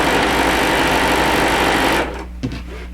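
A sewing machine stitches in a fast, steady whirring run for about two seconds, then stops abruptly, leaving a quiet hum and a brief mechanical clunk.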